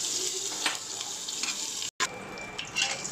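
Whole spices (bay leaf, cinnamon, cloves and cardamom) drop into hot oil and sizzle steadily and loudly close up, broken by a brief silent gap before the frying hiss resumes.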